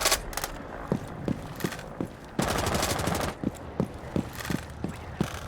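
Rapid automatic gunfire sprays through a floor in a video game, bursts of sharp shots with a loud sustained volley in the middle, followed by separate single cracks at a steady pace, all close and loud.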